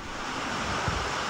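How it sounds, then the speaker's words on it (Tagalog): Super Typhoon Goring lashes Burgos and Gamu in Isabela with strong wind and heavy rain, a dense, unbroken roar that stays loud throughout with no voices. "Malakas ang hangin at ulan sa Burgos at Gamu."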